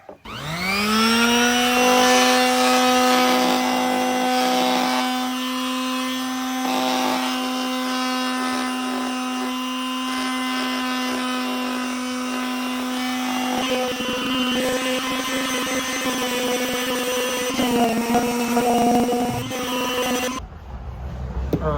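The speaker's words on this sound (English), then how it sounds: "What I've been doing, just the 80 grade, getting in between there, like that." Power sander working 80-grit sandpaper over an antique oak sideboard, a loud steady whine with strong harmonics that runs continuously, shifts pitch partway through under load, then cuts off near the end.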